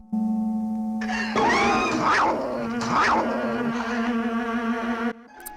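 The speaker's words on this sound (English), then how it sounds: "Yes, cats can be vicious." A cat growls and caterwauls in a 1960s–70s horror-movie trailer, with long wavering yowls rising and falling over a steady electronic drone, then the sound cuts off abruptly.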